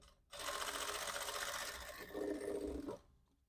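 Sewing machine stitching a back-open princess-cut jacket, a short burst of rapid mechanical whirring that starts abruptly, shifts pitch slightly midway and stops, close and fairly quiet, alone.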